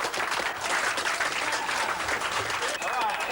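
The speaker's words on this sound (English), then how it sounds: "The wild applause gave it away." Loud, sustained applause from a large crowd, with clapping and cheering filling the whole stretch without a break.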